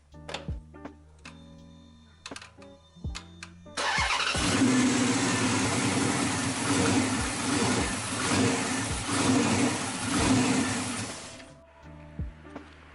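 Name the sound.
car engine running after cleaning the MAP sensor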